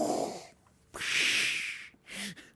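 A voice imitates Darth Vader's mechanical breathing, giving two or three breathy, hissing rasps, each drawn out and trailing into an "sh", with short pauses between them.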